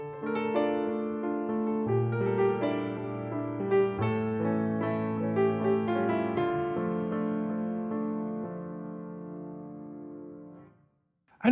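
Piano playing a serenade passage with a simplified right-hand melody over a left-hand accompaniment, sustained chords and notes ringing steadily, moderately loud and close with no talking, fading out near the end.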